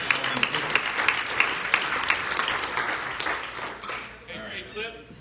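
A room of Rotary Club of Tucson members claps together at a meeting, a dense patter of hands with a few sharper slaps, and voices murmur underneath as the applause thins out toward the end.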